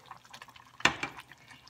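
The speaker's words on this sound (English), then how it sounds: "So a little more water." Water is added to a pot of rice on the stove, a short splash and trickle with a few soft drips, close and fairly faint, with no talking.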